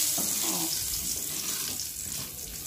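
Whole cumin seeds, cinnamon sticks and bay leaves fry in hot oil while being stirred, giving a steady, close hiss and crackle with no talking.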